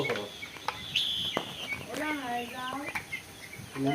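Black Kadaknath chicks cheep in high, repeated peeps close by, mixed with clucking and some faint voices.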